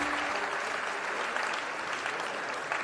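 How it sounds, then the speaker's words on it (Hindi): Loud, dense applause fills a hall as the audience claps with both hands raised, a steady unbroken wash of claps from start to finish with no voices. "जोरदार तालियां बजाए"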